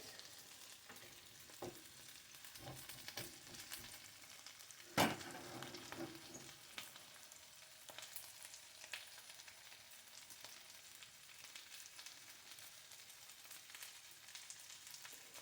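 Food browns in a hot frying pan, a steady close sizzle and crackle with scattered pops and one sharp louder spit midway, no talk over it.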